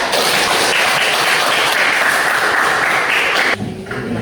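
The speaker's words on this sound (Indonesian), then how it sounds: "Ini beri aplaus untuk kelompok 3." A classroom full of students claps for group 3, a dense, loud burst of applause that holds steady for a few seconds and then cuts off abruptly.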